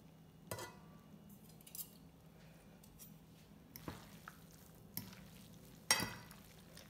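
Drained pasta is stirred with raw egg in a Marinex glass dish for carbonara, with faint scraping broken by a few sharp utensil clinks against the glass.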